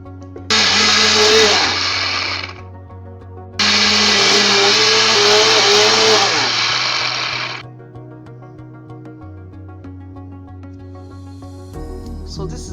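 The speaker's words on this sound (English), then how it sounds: "The next thing is to blend it to get that paste" A kitchen blender purees fresh tomatoes into paste in two loud bursts of whirring, each winding down to a lower motor drone, with a quieter hum between and after them.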